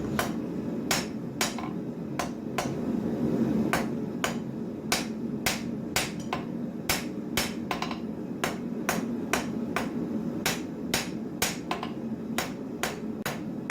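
Hammer blows tapping a hot steel bar hung over the edge of an anvil while forging a full-tang knife, about two dozen sharp metallic strikes in a steady, fairly quick rhythm, close and distinct over a low roar of forge noise.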